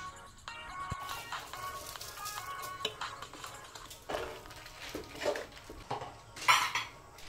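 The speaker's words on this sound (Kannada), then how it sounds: "ಈಗ ತೊಳೆದು ನೆನೆಸಿಟ್ಕೊಂಡಿರುವಂಥ ಅಕ್ಕಿನ ಹಾಕ್ಕೊಳ್ತಾ ಇದ್ದೀನಿ." Washed, soaked rice goes into a pot of boiling water for vegetable pulao, with scattered metallic clinks and clatters of utensils against the pot and a brief rustling pour, close and moderately loud.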